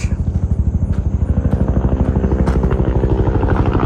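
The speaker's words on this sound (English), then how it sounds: "Well, the helicopter is back again." A loud helicopter close by over parkland at Great Falls, Virginia, its rotor thudding in a fast steady pulse over a heavy engine drone the whole time.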